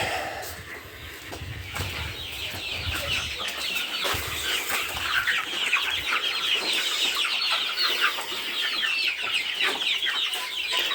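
Young chickens cluck and cheep busily in a coop, a dense, continuous chorus of overlapping calls close by, with a few low background noises.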